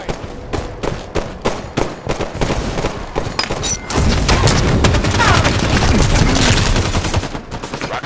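Enemy gunfire in a Halo team arena slayer match: rapid repeated shots and sustained automatic bursts, loud and close, growing into a dense continuous barrage.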